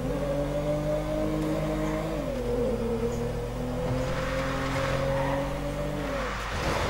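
A Toyota Corolla in GTA 5, driven off-road, revs its engine with a steady droning tone that shifts in pitch as it changes gear, loud and continuous with some gritty tire noise.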